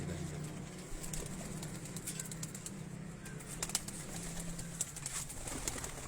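Breeder pigeons in a Sheikhupura loft give soft, low cooing close by, with occasional light wing flutters and small clicks over a steady background hum.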